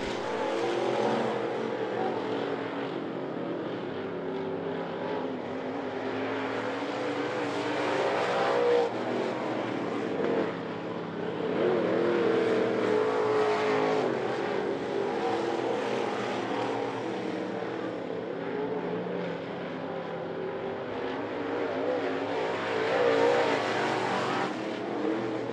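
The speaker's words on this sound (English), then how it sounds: "white flag in the air for Bobby Doss as we enter the final lap of this A-Hobby Sportsman" Hobby Sportsman race cars lapping I-75 Raceway during a final-lap run, engines droning steadily and loudly with a continuous roar that swells and fades slightly as cars pass, no talk over it.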